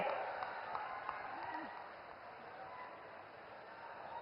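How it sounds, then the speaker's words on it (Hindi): A crowd applauds at a political rally in Bihar: a sustained, even wash of distant clapping, fairly faint and slowly fading over four seconds. "जोरदार तालियां बजती रहनी चाहिए"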